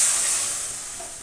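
Marinated fish coated in turmeric, salt and a little sugar hits a hot wok with a sharp, loud hiss of sizzling steam that slowly fades over about a second.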